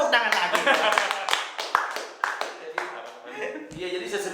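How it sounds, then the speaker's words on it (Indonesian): Audience applause during a talk-show interview: several seconds of close, crisp clapping with voices mixed in. "Tepuk tangan lagi."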